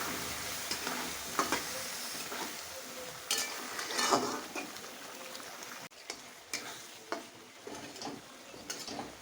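Spiced masala with water simmering on low gas for stuffed brinjal gives a soft bubbling sizzle with repeated spoon scrapes and light taps against the pan, close and fairly quiet, no talk.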